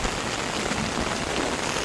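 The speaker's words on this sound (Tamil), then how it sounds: "இப்போ எப்படி பேய ஆரம்பிச்சுன்னு பாருங்க அங்கேருந்து வந்த மழை" Heavy rain pours down without a break, a dense, loud hiss of drops hitting surfaces that stays even throughout, with no voices.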